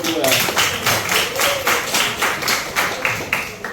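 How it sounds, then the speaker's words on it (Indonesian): Classroom clapping in honour of class 11, a series of roughly even claps from a small group of students that fades toward the end, with a voice speaking over it. "Tepuk tangan dulu buat 11"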